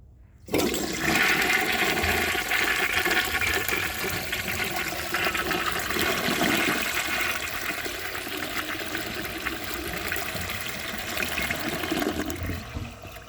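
A 1939 Standard Modernus toilet with a small siphon jet flushes after a sharp start, a loud rushing swirl that runs long and steady before slowly tapering into trickling refill.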